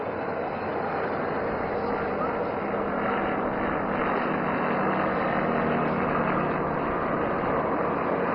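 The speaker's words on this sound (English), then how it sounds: "Now aircraft is completing the second half of the figure of 8 maneuver." Jet aircraft flying a figure-of-8 maneuver during a flying display at Yelahanka Air Force Station, Bengaluru: a steady, loud, continuous engine roar that holds level throughout without breaks.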